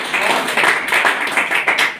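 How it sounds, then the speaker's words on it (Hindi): An audience at a business motivational talk claps, a dense patter of many hands filling the space, fairly close and fluctuating in bursts with no pause. "जोरदार ताली होना चाहिए सारे"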